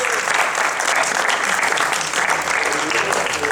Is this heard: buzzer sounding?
no